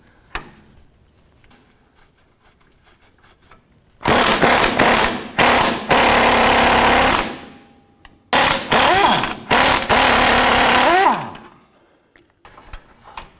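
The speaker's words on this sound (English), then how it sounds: "Using an 18 millimeter wrench and 18 millimeter socket, I'm gonna go ahead and remove this upper bolt here." An 18 mm wrench and socket work an upper control arm bolt on a 2007-17 Jeep Wrangler, with loud bursts of rapid mechanical rattling separated by pauses and quieter handling noises.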